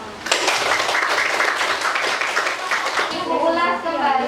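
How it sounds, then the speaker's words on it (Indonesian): A classroom of students claps for groups about to present their discussion results. A burst of clapping starts almost at once and fills about three seconds, then gives way to talking. "Kita beri tepuk tangan."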